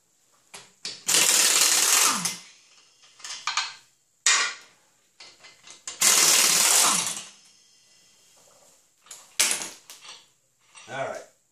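Lug nuts being spun off a 2003 Ford Explorer rear wheel with an impact wrench: several loud, rattling bursts of a second or two each, separated by short pauses and clinks of the nuts, with no talking.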